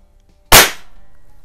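Single sharp, loud crack of a Hatsan model 95 .22 caliber spring air rifle firing at a can, close to the microphone, followed by a short fading ring.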